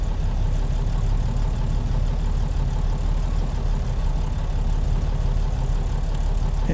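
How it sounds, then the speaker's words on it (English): A Cajun Express Powerliner heavy-haul truck with a KTA 19-litre engine in American Truck Simulator idles slowly, a steady, deep rumble that holds at an even level throughout with no other sounds over it. "And engine going real slow there."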